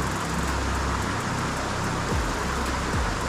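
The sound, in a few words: rain falling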